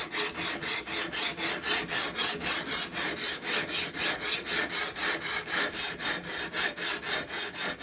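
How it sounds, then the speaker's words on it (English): A knife is sharpened on a stone using a Ruixin Pro RX-009 system, making rhythmic back-and-forth rasping strokes, about four per second, steady and close throughout. "the sharpening process is done the same as if you were trying to file something. Back and forth."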